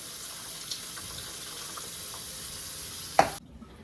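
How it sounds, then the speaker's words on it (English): Rinse water is poured off raw rice into a sink, a steady trickling splash that ends with a brief clatter, then goes quiet. "So you put water in the rice, and then you pour it off."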